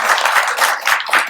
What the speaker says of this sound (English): I just want to give her a round of applause.